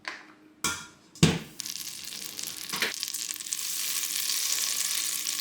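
Butter sizzles and spits as it melts in a warm saucepan for a roux, a few sharp clatters at the start giving way to a steady, rising hiss close by.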